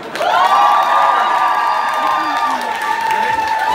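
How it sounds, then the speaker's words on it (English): A concert crowd at a DJ night in Moscow applauds and cheers, loud and sustained, while a drawn-out electronic tone swells and holds over the noise. "Applause!"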